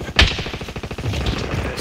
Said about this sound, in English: They just started shooting at me.